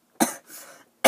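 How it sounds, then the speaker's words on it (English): A person coughs nearby, with a sharp close cough followed by a short rasping trail, then a second cough starting at the end. "I just have a cough"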